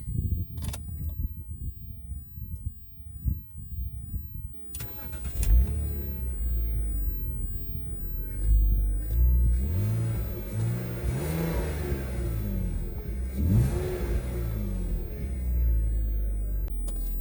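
A 2.5-liter BMW Z4 with about 300,000 km on it runs at a steady, loud drone while being driven, the engine note rising and falling through gear changes.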